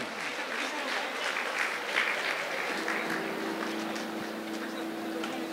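Steady, dense applause from a concert audience welcoming a singer at a college musical concert in Karkala, a continuous wash of clapping with crowd murmur that holds level throughout, plus a faint sustained tone underneath.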